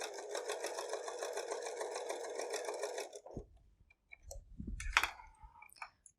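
A sewing machine runs steadily for about three seconds, stitching a row on a kimono-style robe with a fast, even whir. Afterward come a few faint clicks and soft handling noises.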